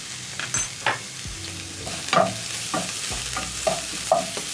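Onions and capsicum frying with potatoes in a pan, a soft sizzle broken by several sharp scrapes and clinks of a utensil stirring the mix, close and without talk.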